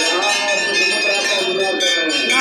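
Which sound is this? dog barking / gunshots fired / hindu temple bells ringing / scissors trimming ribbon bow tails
hindu temple bells ringing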